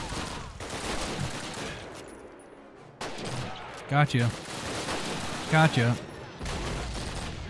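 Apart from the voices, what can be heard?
MG42 machine gun firing in Call of Duty video game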